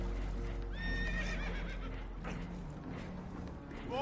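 A spooked horse in Red Dead Redemption 2 gives a loud descending whinny aboard a boat taking on water, followed by softer snorts and shuffling hooves over a steady low rumble.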